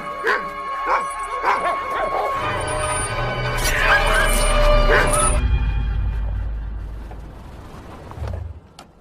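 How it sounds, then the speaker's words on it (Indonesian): A pack of dogs in a 2007 film scene barks and yelps in quick, overlapping bursts, close and fairly loud, then fades under a low rumble with speech in the background. "sekelompok anjing mulai menggonggong"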